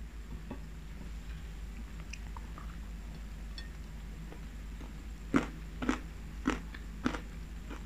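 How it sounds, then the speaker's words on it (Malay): Crispy spicy anchovy snack from Spicy Mama bitten and chewed close to the mic: a quiet stretch, then four crisp, loud crunches in quick succession near the end. "makan rangup pedas ikan bilis dari Spicy Mama HQ ni"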